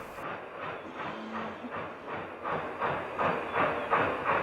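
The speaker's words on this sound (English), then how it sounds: "Bagnall 2758 nears journey's end on the 3 3/4 mile trip from the exchange sidings." Bagnall 2758 industrial steam locomotive working a colliery line from exchange sidings in Wales, rhythmic chuffing exhaust beats steadily growing louder as it approaches, with a faint hiss of steam beneath.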